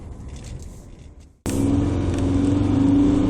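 A Mercedes C270 CDI on the road, a steady engine and road rumble that rises sharply after a brief dropout, then holds a smooth, even drone with a faint rising tone.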